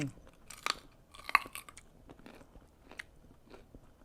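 Crunchy food is chewed close up alongside a spicy Thai salad with squid eggs and crisp vegetable stems. Sharp bites and crackling crunches come in irregular bursts, then softer chewing.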